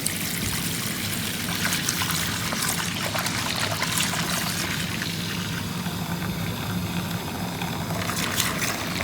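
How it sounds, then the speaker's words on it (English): Tap water running steadily into a plugged sink, filling it to wash a foam filter from a Honda EU7000is generator; a continuous close splashing trickle with no one speaking. "I'm gonna plug up the sink here just so we can get some water here"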